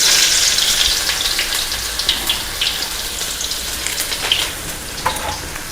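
Garlic and mustard seeds sizzle steadily in hot oil, a dense crackling hiss that stays loud throughout with small pops scattered across it, and no voices.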